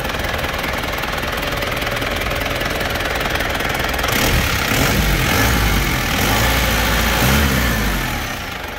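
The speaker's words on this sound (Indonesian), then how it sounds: "Mesin halus ya, masih halus" A Honda Civic Genio engine idles steadily up close, a continuous low rumbling drone that swells slightly in the second half without any talk.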